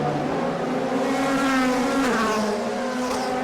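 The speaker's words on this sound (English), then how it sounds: "There, the pace car coming." A pace car circling the Shanghai street circuit during a 2010 DTM race, its engine a loud, steady harmonic drone that rises and dips slightly as it passes, with no voices over it.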